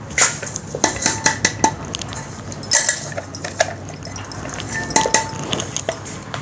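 Repeated metal clinks and scrapes of a spoon against a bowl and pan as a thick, sticky mixture of ground peanuts and dates for laddoos is scooped out, close and fairly loud.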